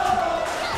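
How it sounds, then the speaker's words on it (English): A large crowd roars and cheers continuously at a Tekken 7 grand final esports tournament, a dense steady wash of voices without pause. "you hear the crowd cheer for Cuddle"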